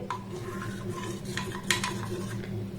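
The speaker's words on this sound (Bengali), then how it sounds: "এবারে দুধের সাথে কাস্টার্ড পাউডারটাকে একটু ভালোভাবে মেল্ট করে নেব" A spoon stirs custard powder into milk in a pot, soft repeated scraping and light metallic clinks against the vessel with a brief louder knock, fairly quiet and close.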